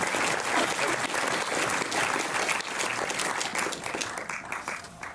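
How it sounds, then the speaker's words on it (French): An audience at the Méliès cinema in Montreuil claps for a film distributor during a post-screening discussion, a continuous crowd applause that holds steady, then thins and softens toward the end. "Vous pouvez les applaudir"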